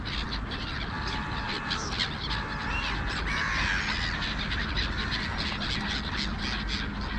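A noisy flock of gulls, including black-headed, silver and mew gulls, squawks and cries continuously while squabbling over fish, overlapping harsh calls close by over a steady rushing background.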